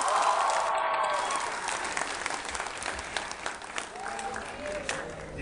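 Loud, sustained applause from a university audience at an engineering graduation speech, steady dense clapping with crowd noise that tapers slightly toward the end, and voices murmuring beneath.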